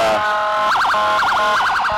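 Police car sirens wail at a small-town Christmas parade, a loud, close electronic siren holding a steady tone before breaking into repeated rapid warbling bursts.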